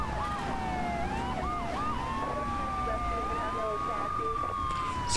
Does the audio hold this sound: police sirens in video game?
yes